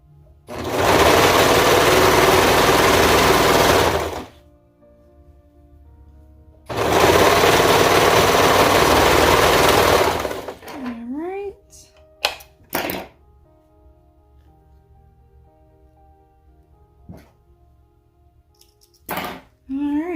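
A serger runs a seam on a Napa romper in two loud sustained bursts of about four seconds each, then falls quiet apart from faint handling clicks, fabric rustles and short thumps.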